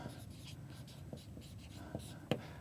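Marker squeaking and tapping on a whiteboard during a programming lecture, several short faint strokes ending in one sharper tap, with low room noise and faint murmuring.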